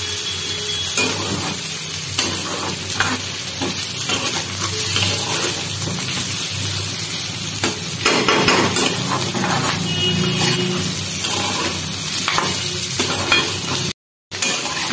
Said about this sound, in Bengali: দিয়ে দিলাম মটরশুঁটি, দেখো আলু, গোবিন্দভোগের চাল, মটরশুঁটি একবারে ভেজে নিচ্ছি সুন্দর করে।